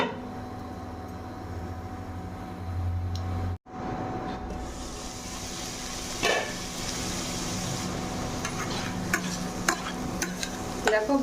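Shredded cabbage fried in a pan with Kashmiri red chili powder, bay leaf and tomato for a vegetarian Bengali dish, sizzling steadily while a spatula stirs and scrapes, with a brief break near the start and sharper scraping taps later, no talk.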